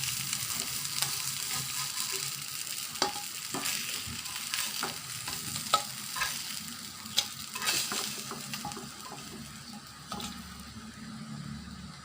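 Tilapia pieces frying in hot oil give a steady, close sizzle with crackling pops and occasional sharper spatters throughout, and no talking.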